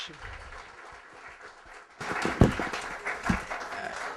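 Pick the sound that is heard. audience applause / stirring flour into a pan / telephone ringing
audience applause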